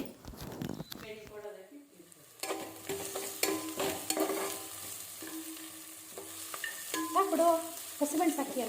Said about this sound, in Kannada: ಇದು ಚೆನ್ನಾಗಿ ಬೆಂದ ನಂತರ ಟೊಮೆಟೊನ ಹಾಕ್ತಾ ಇದ್ದಾರೆ